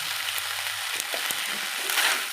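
Ginger paste and turmeric frying in a pan of oil for a fish curry with whole peas, a steady close sizzle with light crackles and a few stirring clicks throughout.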